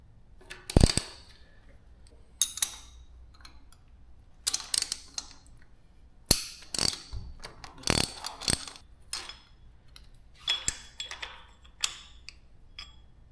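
Wrench ratcheting as bolts are loosened to take a bracket off a neglected Yamaha TW200 motorcycle engine, with short bursts of quick clicks separated by pauses, close and fairly quiet.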